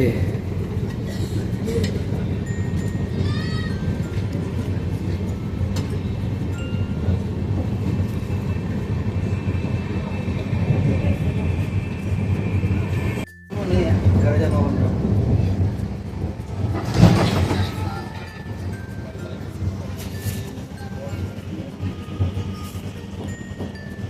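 A moving passenger train gives a steady, close, rumbling roar from inside a carriage as it sways along the rails, with a brief cut partway through. People talk over the continuous noise.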